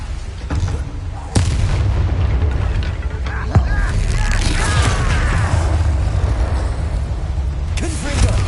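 Hogwarts Legacy spellcasting, including Bombarda blasting charms, gives continuous booming explosions and rumbling impacts, loud and dense, with a sharp blast onset partway through and sustained crackling debris.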